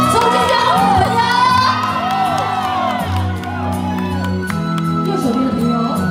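A large outdoor crowd at a tomato festival party screams and cheers continuously, loud and dense, with whoops and shrill yells rising over amplified sound.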